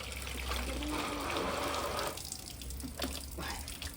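Water pours steadily from a tap into a sink, a close rushing stream that lets up briefly before continuing in uneven splashes.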